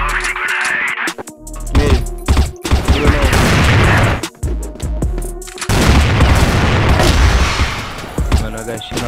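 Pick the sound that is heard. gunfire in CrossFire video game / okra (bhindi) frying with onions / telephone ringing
gunfire in CrossFire video game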